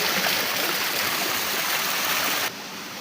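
Water overflowing into a large collection tank holding over 17,000 liters, a loud steady rushing splash that drops to a lower wash near the end.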